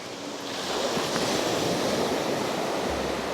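Surf rolls in at Foxton Beach, Northumberland, a broad continuous wash of breaking waves that swells and holds steady, with some wind buffeting the microphone.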